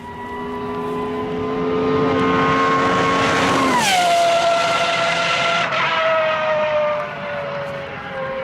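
A real Pagani supercar engine howls loud and close, its strong tonal whine climbing steadily, then dropping sharply as it passes by and fades into a lower drone.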